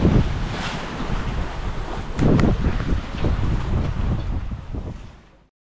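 Strong wind roars across the microphone while waves rush and slap against a sailboat's hull at sea in 18 knots of wind, a steady loud wash with gusty swells and no voices.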